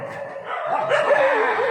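A pet dog yips and whimpers in a thin, high, wavering run of cries, fairly close and continuous, with no talk over it.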